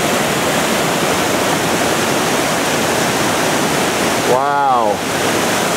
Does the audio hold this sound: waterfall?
yes